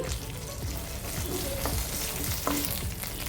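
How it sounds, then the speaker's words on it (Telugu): Curry leaves and coriander fry in hot oil in a pan for coconut chutney, a dense continuous sizzle with occasional stirring scrapes, close and steady. "ఇప్పుడు ఇందులోకి కరివేపాకు కొద్దిగా వేసుకోవాలి అలాగే కొద్దిగా కొత్తిమీర కూడా వేసుకొని ఫ్రై చేసుకోవాలండి"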